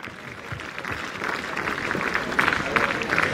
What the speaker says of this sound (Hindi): एक बार जोरदार तालियों से आचार्य जी का स्वागत करेंगे